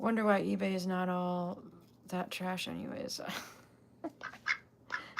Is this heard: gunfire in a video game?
no